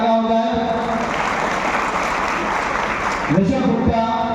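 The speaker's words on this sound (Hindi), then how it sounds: "जोरदार तालियां हो जाए।" An audience at a Mau police event on cyber awareness, traffic rules and Mission Shakti claps steadily through the middle as a top student is called up for an award. A voice speaks briefly at the start and again near the end.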